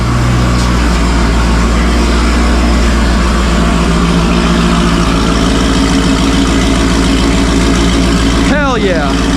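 A Corvette C6 ZR1 idles while warming up, a loud, deep, lumpy rumble with steady throb sitting right by the microphone, unbroken for the whole stretch, with a short squeaking noise near the end.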